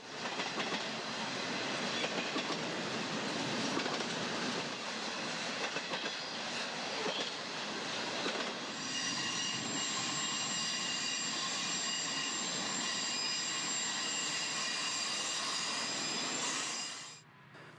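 A long train hauled by six EMD diesel locomotives rumbles past at Cajon Pass with a dense mechanical roar and clattering wheels, shifting to a higher-pitched sustained whine partway through before cutting off.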